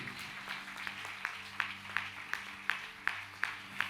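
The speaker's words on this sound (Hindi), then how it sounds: "उसके लिए एक बार जोर से फिर से ताली बजा के प्रभु को महिमा करिए।" A church congregation claps in praise, a steady, regular rhythm of sharp hand claps at roughly three per second, moderately distant under a soft background hum.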